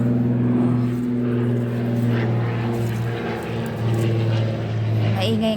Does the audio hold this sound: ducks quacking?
no